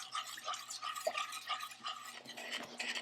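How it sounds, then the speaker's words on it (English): Lemon pie filling (sour cream lemon pie) stirred in a pot on an electric stove: soft, rhythmic scraping and swishing strokes repeated close by, quiet and steady with no talk. "I'm just going to cook and stir until this becomes thickened"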